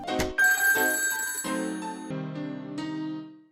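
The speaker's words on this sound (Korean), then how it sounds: "벽난로에 불을 붙이는 일을 끝냈을 무렵 전화가 걸려옵니다." A telephone rings with a bright, bell-like tone in a short, close burst that plays clearly on its own and fades out at the end.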